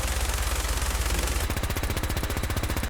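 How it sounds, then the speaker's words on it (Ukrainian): Rapid automatic gunfire from a heavy weapon in Fallout 4, a steady loud stream of shots that grows sharper and more distinct partway through. "Heavy Weapons також кастомізується і дуже круто стріляє."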